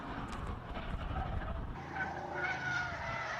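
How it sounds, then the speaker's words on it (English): An AC Cobra classic car climbing a hill-climb course in Cape Town, its engine a steady roaring drone heard from a distance with faint tire noise, no talk over it. "Keeps it clean and tidy as he runs up the hill in the Cobra"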